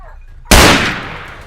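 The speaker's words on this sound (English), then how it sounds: "I raise my rifle and take aim at one of the boars. Its size presents a real challenge, but after several shots, I finally take it down" A single loud, sharp rifle shot cracks out during a wild boar hunt, ringing and echoing as it slowly decays across open ground after a brief quiet lead-in.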